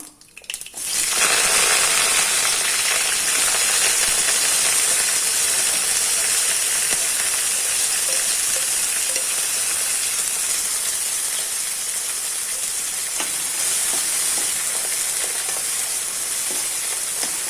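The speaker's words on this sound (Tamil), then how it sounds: "இப்போ பாருங்கள், கடுகு பொடியுது." Mustard seeds splutter in hot oil, then shallots, garlic and curry leaves fry, making a loud, dense, steady sizzle close at hand for a Tamil dry fish gravy, with no speech.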